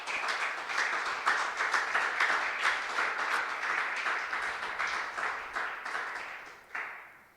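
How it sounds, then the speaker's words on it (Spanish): A church congregation claps together in a sustained, dense round of applause that stays steady and lively before tapering off near the end. "Dale un aplauso al Señor"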